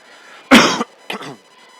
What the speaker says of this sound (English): Coughing in your ear.